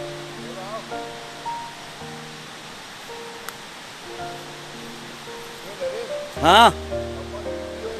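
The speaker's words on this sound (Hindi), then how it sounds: "शानदार झरने की कलकल आवाज।" A babbling waterfall in the forested hills of Mainpat, Chhattisgarh, gives a steady, close rush of falling water throughout, with several people chatting over it and a brief sharp knock near the end.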